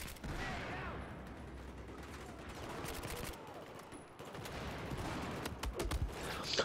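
Gunfire in the Battlefield 4 video game crackles in rapid, repeated bursts at low level, with scattered sharp shots and game noise throughout.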